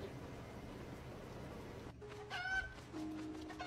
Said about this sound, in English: Is that a chicken?